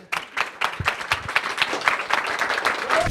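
Dense applause from a crowd at an office award ceremony, many hands clapping together steadily for a few seconds with a faint voice near the end.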